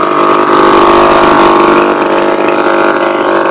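A 1941 World War II Fichtel & Sachs engine idles close by, a loud, steady, buzzing drone with even pulsing throughout and nothing else over it.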